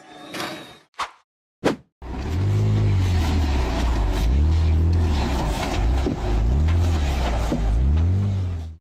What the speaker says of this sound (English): The off-road SUV tried to accelerate up a steep,